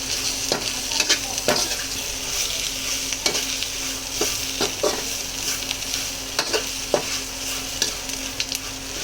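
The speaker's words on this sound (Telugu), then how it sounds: "పసుపు వేసుకున్నాం కదా, సో కలుపుతున్నాం అన్నమాట" A snack mixture with turmeric is stirred in a frying pan, giving a steady sizzle with regular, sharp scrapes and taps of the spoon against the pan.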